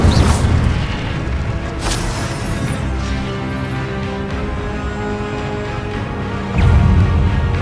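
Spell effects in the Hogwarts Legacy video game, with the Incendio fire spell cast: a loud, dense roar of booming, crackling energy runs throughout, with sharp bursts near the start and a heavier surge near the end.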